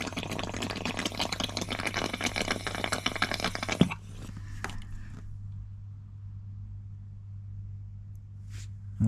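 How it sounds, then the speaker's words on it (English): A person blows excess water out of a copper pipe, producing a close, sustained breathy rush with spluttering hiss for about four seconds, then a low steady hum and a few faint knocks. "Just blow this excess water out of here."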